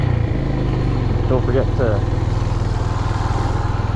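A Suzuki TU250X motorcycle engine thrums steadily at low revs while riding quietly through a neighborhood, its close, even pulse running beneath a brief spoken phrase.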